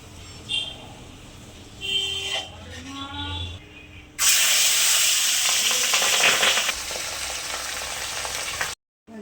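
Pabda fish fries in white oil seasoned with turmeric, a loud steady sizzle bursting in partway through after quieter kitchen clatter, then cutting off abruptly near the end.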